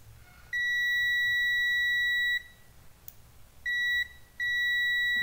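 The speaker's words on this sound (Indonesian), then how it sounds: "saya akan mengetes continuity-nya atau bunyi bip ya saat" ANENG V01A auto-ranging multimeter giving a continuity test beep, with a steady high electronic tone for about two seconds, then two shorter beeps after a gap, clear and close.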